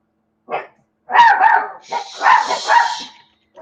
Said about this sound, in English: Why do the dogs keep barking at you?